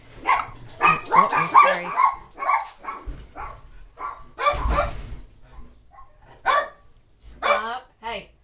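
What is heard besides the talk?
dog barking indoors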